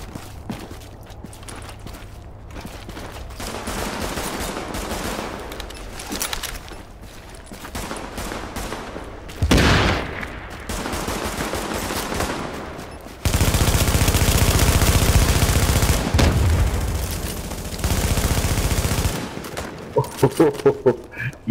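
Shotgun fire in Tom Clancy's The Division, close-quarters combat with bursts of sharp blasts, a sustained loud barrage in the latter half, and players talking in between.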